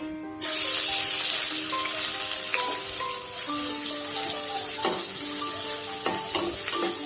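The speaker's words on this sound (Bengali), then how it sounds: "পেঁয়াজটা দিয়ে আমি আরও কিছুক্ষণ ভেজে নিব" Chopped onions drop into hot oil with cumin and dried chilies for mutton kosha, setting off a sudden loud sizzle that stays strong and close, with stirring scrapes and crackles throughout.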